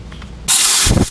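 A sudden loud burst of compressed air hissing from an air line in a shop rebuilding an ISX diesel engine, starting abruptly after a quiet moment and holding steady to the end.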